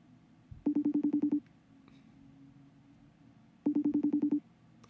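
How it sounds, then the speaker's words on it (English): Two bursts of rapid electronic FaceTime ring tones, each a quick run of identical beeps, separated by a pause with a low hum between. "let me FaceTime call"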